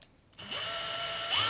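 A Milwaukee drill bores a hole into another Milwaukee tool. A short click gives way to a steady, loud motor whine that holds, then climbs in pitch near the end.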